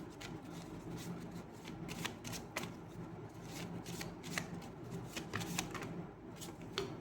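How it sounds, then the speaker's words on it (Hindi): Tarot reading cards being shuffled by hand, a steady close riffling and flapping with sharp slaps as cards fall, quiet overall and continuous throughout. "बहुत सारा कार्ड्स गिर रहा है."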